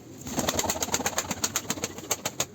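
A Turkish tumbler pigeon (taklacı) coos close by in its coop, a rapid, rhythmic run of soft throaty pulses repeating steadily with no voices over it.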